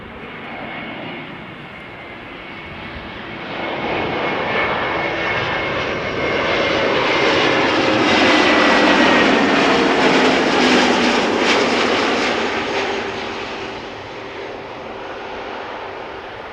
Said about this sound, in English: This is Vueling flight 8353 arriving from Valencia. Another A320neo